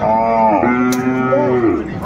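Cows and calves at a village cattle market in Ambari, Dinajpur, give a loud, close, drawn-out moo lasting about two seconds.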